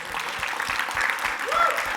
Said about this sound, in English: Let's give United Health Group a round of applause.